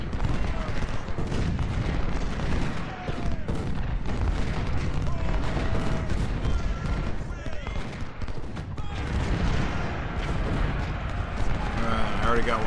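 Artillery cannons firing at the Second Bull Run battle in Ultimate General: Civil War: a dense, continuous roar of booming shots and crackling volleys, loud and sustained throughout with no pauses.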